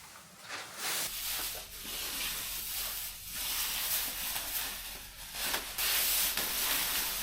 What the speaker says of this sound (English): The roof was then blasted with some air to blow off any remaining dirt and grease.